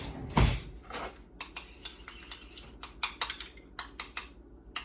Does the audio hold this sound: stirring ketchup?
yes